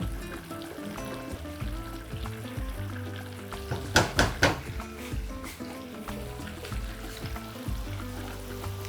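Flour frying in melted butter, a soft steady sizzle close by, interrupted midway by a short cluster of sharp scraping clacks from stirring, then settling back to a gentle hiss.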